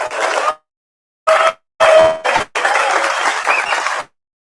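An audience claps at a homebrew competition's awards ceremony, the Bluebonnet Brew-off, in several loud bursts of applause separated by short silences.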